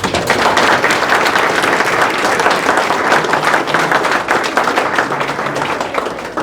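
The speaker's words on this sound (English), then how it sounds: "Give them a round of applause." An audience gives sustained, dense applause for a group of bronze medalists at an awards ceremony, loud and steady throughout with no break.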